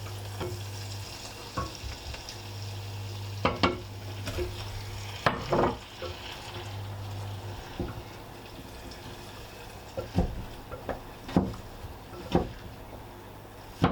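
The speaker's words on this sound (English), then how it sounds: "Stir it all around and then pop your gnocchi in." Gnocchi with crushed garlic and chives sizzle steadily in a pan, broken by scattered clacks and scrapes as a utensil stirs the mix, moderately close with no talk.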